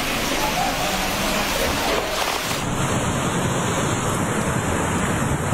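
Floodwater of the swollen river in Bogor surging after heavy rain, a loud steady roar of rushing water with wind buffeting the microphone, continuous throughout.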